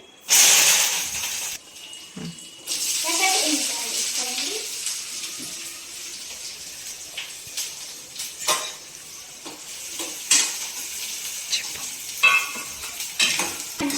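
Cumin, mustard seeds, coriander and curry leaves frying in oil: a loud burst of spattering sizzle at the start, then a steady crackling sizzle with scattered pops and stirring scrapes, close and alone.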